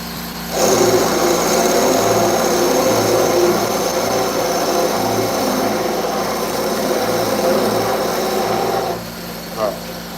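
A Forstner bit bores into spalted river birch with a sustained grinding, rumbling power-tool drone for about eight seconds, close and loud, before the tool stops.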